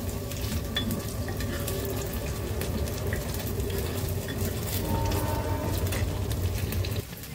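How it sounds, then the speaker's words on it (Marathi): Food frying in a pan of hot oil, a steady, dense sizzle and crackle that stays loud and even throughout with no talking. "मस्त असे ना आपण फ्राय करून घेऊ."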